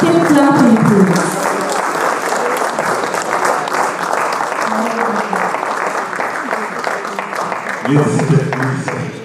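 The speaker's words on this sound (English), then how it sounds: "Please keep clapping." Sustained audience applause at a quantity surveying conference, dense steady clapping filling the room for about nine seconds, with voices and a speaker audible over the start and end.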